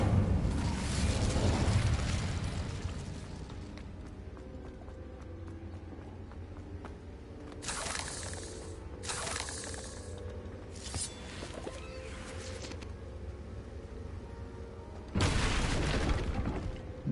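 An Incendio fire spell is cast in Hogwarts Legacy, producing a booming fiery burst at the start, several later whooshing blasts, and a final loud eruption over quieter ambient game sound.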